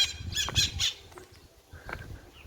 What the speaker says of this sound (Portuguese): isso é papagaio?